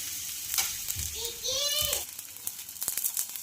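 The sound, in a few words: spring onion dhapata flatbread sizzling on a tawa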